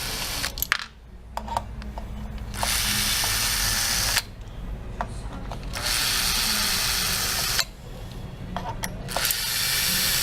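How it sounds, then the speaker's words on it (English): An Allen key removes the motor housing screws on a bike motor, producing repeated ratcheting, grinding turns in bursts a few seconds long, broken by brief pauses and light clicks, close and fairly loud. "now use the Allen key to remove the motor"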